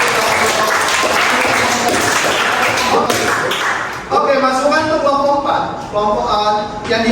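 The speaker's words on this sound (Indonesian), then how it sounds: "Tepuk tangan buat mereka dulu. Tepuk tangan." A university sociology class applauds a student group, loud clapping that fades after about four seconds, when people begin talking over the last scattered claps.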